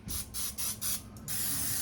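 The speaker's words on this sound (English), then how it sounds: "I'm just going to put some olive oil spray" Olive oil spray hisses into the baskets of a Ninja Dual air fryer in several short, close bursts, ending in a longer continuous spray.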